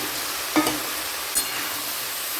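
Cauliflower being stirred in a frying pan, a steady soft sizzle with two brief scraping strokes of the spatula, no voices.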